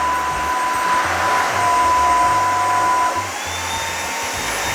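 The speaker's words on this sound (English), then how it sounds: "Who knew vacuuming could be so much fun?" A Eufy Mach V1 Ultra robot vacuum cleaner runs with a steady, loud motor whine and airy hiss, holding constant before dropping slightly in level partway through, with no talking.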